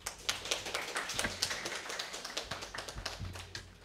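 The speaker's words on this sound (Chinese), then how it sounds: "给讲者一个热烈的掌声" Applause from a seminar audience at the close of a Ruby programming talk, a dense steady patter of many hands clapping with sharp individual claps standing out, lasting the whole few seconds with no speech.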